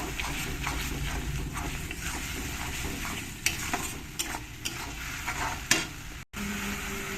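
Garlic paste and tomato paste stirred together in a hot pan for a mustard pomfret fish curry, a continuous sizzle with scraping spoon strokes and a few sharper knocks, then a sudden brief cutoff near the end.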